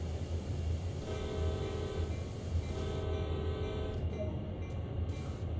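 Train horn from a train simulator game, sounded twice as two sustained tonal blasts over a steady low locomotive rumble, each lasting over a second.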